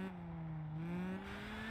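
A rally car engine in the WRC Generation racing video game revs with a steady, rising drone, held near and continuous for under two seconds with no voices.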